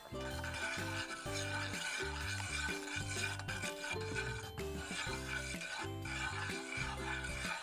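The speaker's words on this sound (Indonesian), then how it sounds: "aduk-aduk pudingnya" A spoon stirs a milk pudding mixture with jelly powder in a pot, producing a continuous rhythmic scraping and swishing that is quiet and steady throughout.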